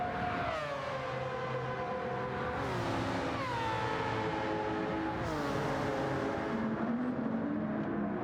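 Mazda race cars scream around a track in the racing game Gran Turismo 7, their high-pitched engines rising and falling through repeated gear changes, loud and continuous.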